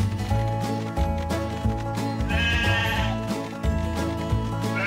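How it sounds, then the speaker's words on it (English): Sheep bleat in the Paw Patrol Pups Academy game, a short cartoon bleat rising over steady, bouncy game music that plays throughout. "All right, you hungry sheep, follow me."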